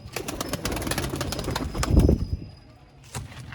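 Pigeons, flying and breeder birds, give soft cooing calls with some wing flapping nearby, a cluster of sounds peaking in the middle before fading, then a brief flutter near the end.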